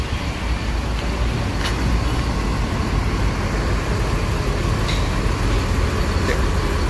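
Buses idling in a cramped, crowded bus terminal parking area, with a dense, steady low engine rumble and traffic noise throughout, plus a few brief sharp hisses, probably air brakes, over the drone.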